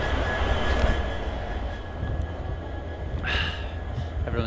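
An old-style Indian sleeper train rolls along with steady rumbling wheel and carriage noise, a faint high squeal running through and a brief hiss near the end, heard from on board.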